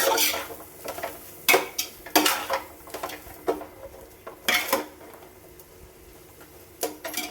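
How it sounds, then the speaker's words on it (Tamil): Vegetables and masala are stirred in oil in a pan, with irregular scraping and clinking of a spoon against the metal, soft and close, with no talk. "மசாலாலாம் இந்த காயோட சேர்த்து எண்ணெயிலேயே வதக்கிக்கணும்."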